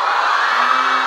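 Fans at a pop singer's music sharing event scream in a sustained, dense crowd roar. The high, shrill cheering stays steady and loud throughout the short moment.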